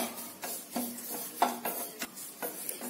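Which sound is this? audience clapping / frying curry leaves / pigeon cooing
frying curry leaves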